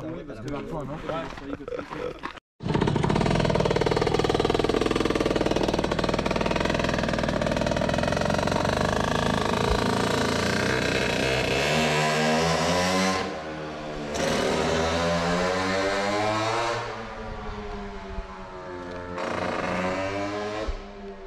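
Motorized bicycles ridden fast, one handed to a rider named Edgar, give a loud continuous engine drone with revving pitch changes across most of the stretch, after a brief quieter start.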